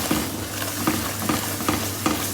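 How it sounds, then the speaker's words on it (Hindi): Spices fry in ghee and oil for a Lahori chana masala, giving a continuous close sizzle with regular stirring strokes about every half second. "इसको हमने अच्छे तरीके से मसाले को भूनना। इसमें घी ऑयल हमने थोड़ा सा ज़्यादा डाला था"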